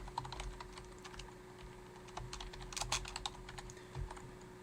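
Typing on a computer keyboard while entering code: a close, steady patter of key clicks with irregular bursts and short pauses, no talking.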